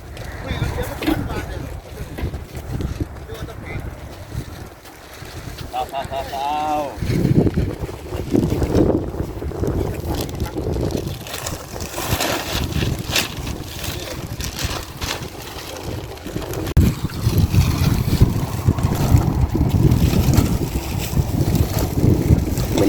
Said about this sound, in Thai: ลมเย็นลมหนาวครับ